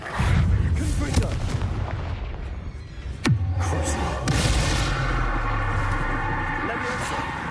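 Confringo fire spells blast in the game Hogwarts Legacy, heavy booming impacts over a dense rumbling battle bed, with one sharp whooshing cast midway, loud and close; a voice speaks briefly.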